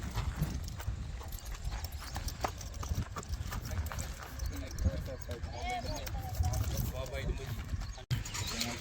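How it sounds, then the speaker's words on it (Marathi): Steady clip-clop of horse hooves throughout, close and fairly loud, with people talking over it and a brief whinny in the background, at a horse and bullock cart race. "घोडा उतरवला मित्रांनो खाली"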